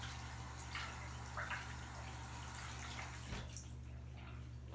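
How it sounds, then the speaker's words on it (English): A tap runs steadily while hands are rinsed, a faint, even rush of water with a few soft splashes and drips as the hands move under the flow. "Rinse your hands off."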